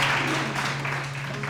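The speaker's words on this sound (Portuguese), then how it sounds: "Dá uma salva de palmas para nós." A church congregation applauds during a service, a short burst of dense clapping at moderate volume that tapers slightly.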